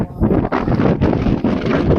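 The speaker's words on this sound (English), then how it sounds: "it is very windy here right now" Strong wind buffets an outdoor microphone in loud, rumbling gusts that surge and dip every half second or so, dominating the scene with no voices.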